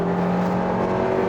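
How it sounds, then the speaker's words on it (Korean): A Kia Seltos with a 198-horsepower engine accelerates as the gas pedal is pressed while crossing the Hannam Bridge. Inside the cabin, the engine's steady hum and tire noise hold a constant drone. "가속 페달을 꾹 밟는데"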